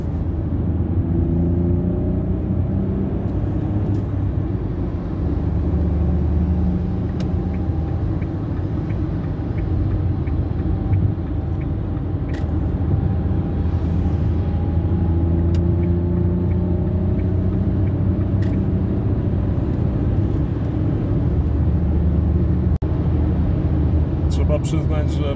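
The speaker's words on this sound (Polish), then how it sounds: "to ja kolejny raz wbijam na autostradę A2, tym razem zajmujemy pas lewy i śmigam" Dacia 1.0 LPG car driving fast in the left lane of the A2 motorway, with a constant loud engine and road rumble throughout and someone talking over it.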